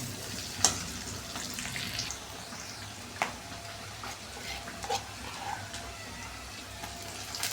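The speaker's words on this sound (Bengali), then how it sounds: "পেঁয়াজ আর কাঁচা লঙ্কাটা ভাজা ভাজা হবে" Chopped onion and green chili frying in a pan, a soft, continuous sizzle heard close up, broken by occasional clinks and scrapes of a spatula stirring.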